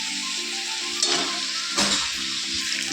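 Cauliflower and potato curry sizzling steadily in a pan with spice paste, a close continuous fry hiss broken by a few scraping stirs of a spoon.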